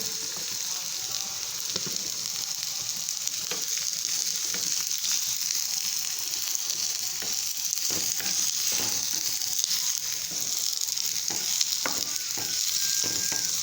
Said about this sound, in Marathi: मस्त कांदा लाल गोल्डन ब्राऊन होईपर्यंत कांदा भाजून घ्यायचा